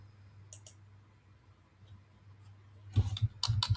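A few sharp computer mouse clicks on a desk, faint at first, then a louder quick cluster of clicks near the end, with no talking.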